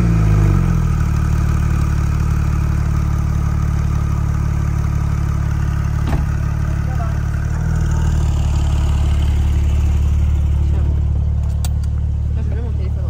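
A 600-horsepower rear-wheel-drive Porsche sports car fitted with a roof tent runs loud and close, its engine rumbling steadily with slight shifts in pitch, and voices may be faintly present.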